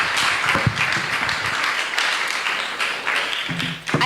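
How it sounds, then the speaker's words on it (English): An audience at a church career mentorship event breaks into applause, a steady patter of many hands clapping for a few seconds, with brief voices near the end. "I think we should give a round of applause"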